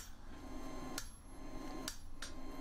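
A hammer strikes a rough, hammer-marked steel bottom swage on a blacksmith's anvil to level and tidy it, three sharp metallic hits spaced apart over a steady background hum, close and clear.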